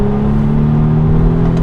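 Volvo XC60 T8 plug-in hybrid SUV accelerating at full throttle in sport mode with the battery switched off, giving a loud, steady engine drone heard close up from inside, with no talk.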